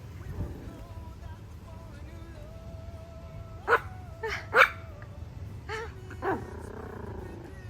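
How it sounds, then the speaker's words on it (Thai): At the seaside, a frightened dog barks at an inflatable swim ring with four or five sharp, separate barks over a quiet background, clustered in the middle of the stretch. "เมื่อกี้เห่าไม่หยุดเลย"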